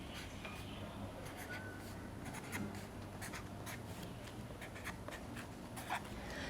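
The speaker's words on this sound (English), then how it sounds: "I'm going to write the number on the board" Marker writing a number on a whiteboard during a group art-therapy weaving session, a dense run of short scratchy strokes that continue steadily without pause, fairly close, over a constant low room hum.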